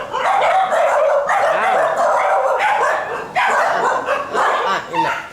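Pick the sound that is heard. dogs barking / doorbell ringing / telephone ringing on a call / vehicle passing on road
dogs barking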